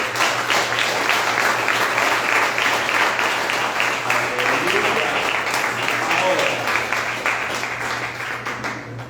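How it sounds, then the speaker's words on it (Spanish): Sustained applause from a large church congregation, steady and loud for the whole stretch, with a low hum underneath. "Denle un aplauso a Dios."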